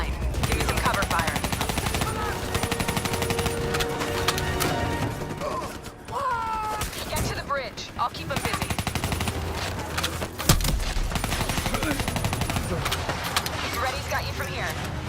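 Sustained bursts of automatic gunfire ring out during a Call of Duty Black Ops 3 firefight, dense and loud through most of the stretch. Mechanical clatter and voices cut in briefly midway, then rapid firing resumes.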